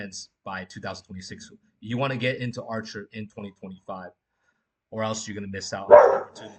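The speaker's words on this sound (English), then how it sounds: "Sorry about my dog was barking." A dog barks briefly near the end, its single sharp bark partly buried under someone talking steadily throughout.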